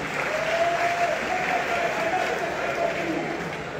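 An audience at a televised Congolese face-to-face debate with the prime minister applauds loudly and continuously, with a faint voice drifting under the clapping before it slowly tapers.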